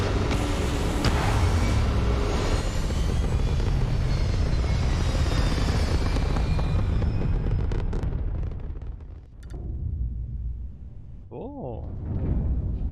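A spaceship lifts off in the video game Starfield, a loud, sustained engine roar that rumbles for several seconds, then fades with a dip before swelling again, with a person talking over it.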